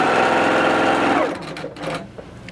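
A Little Rebel sewing machine stitching at full speed gives a loud, steady high-pitched whir with a rapid needle clatter for over a second, then cuts out into quieter clicks and faint mechanical rattles.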